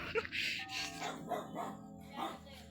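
A few dog barks and yips ring out amid busy game music and chimes in the horror game Slendrina: The Cellar, moderately loud with a synthetic quality.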